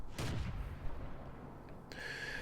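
The gun of a Panzer III Ausf A tank in World of Tanks fires once near the start, a faint booming shot that fades into a low rumble of in-game ambience.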